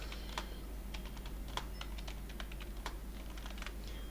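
Keys clatter on a computer keyboard in irregular quick taps, close but quiet over a low steady hum, with no speech.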